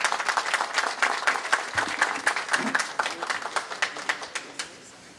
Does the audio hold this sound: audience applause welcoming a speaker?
yes